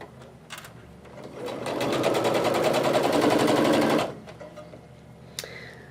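A sewing machine stitches fabric pieces together for a black and blue quilt block, running in one steady, fast-rattling burst of about two and a half seconds between quieter moments with faint handling noises.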